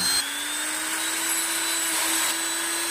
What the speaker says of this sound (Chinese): 简单的打磨可以改变树干的外形